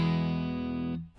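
A sustained electric guitar chord through a Hello Sailor Effects Broadside overdrive pedal, all knobs at noon, rings out evenly for about a second, then cuts off abruptly.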